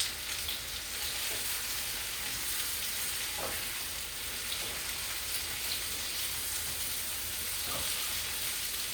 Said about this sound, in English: I'm going to stir up my mushrooms.